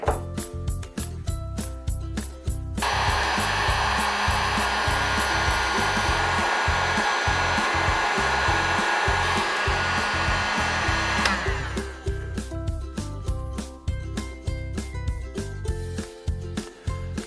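A heat gun roars loudly for several seconds while warming an insulated butt connector on an electric floor heating cable, with rattling handling noises before and after the blast.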